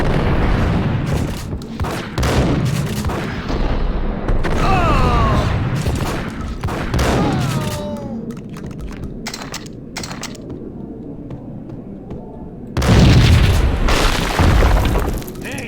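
Gunfire and booming blasts in the first Max Payne game come in loud bursts with sharp clatter and mechanical noises between them, ending in a final heavy burst of shooting, with faint voices under parts of it.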